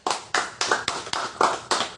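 A group at a relaxed Islamic study gathering in Manokwari claps hands in unison, about seven sharp, evenly spaced claps in quick steady rhythm, close and loud with no talk.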